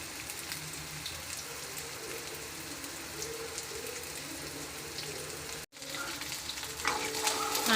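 Chopped onions fry in a hot pan for a simple chicken curry, a steady dense sizzle running throughout with a brief cutoff near the end before the crackle resumes slightly louder.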